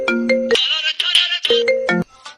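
A phone ringtone for an incoming call plays a loud, bright electronic melody in two repeating phrases, close and alone, then cuts off.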